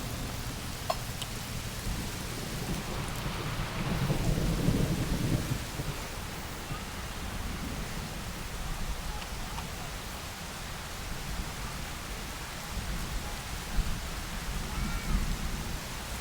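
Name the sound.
rain falling during an e-bike commute in Omaha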